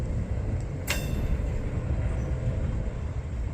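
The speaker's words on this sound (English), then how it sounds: "we're getting ready to have a train meet and pass" A Norfolk Southern intermodal train rumbles steadily nearby, a continuous low roar of rolling freight cars with one sharp brief hiss or squeal, no voices.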